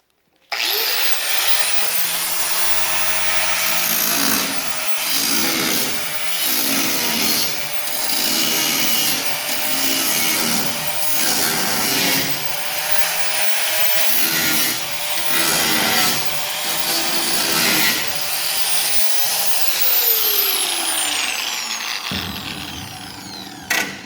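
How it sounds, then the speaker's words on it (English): Grinder cutting through metal on a 1972 Chevy truck during restoration, a loud steady abrasive whine with repeated pulsing strokes over about twenty seconds, then spinning down and stopping near the end. "So I'm going to get my PPE on and start grinding this"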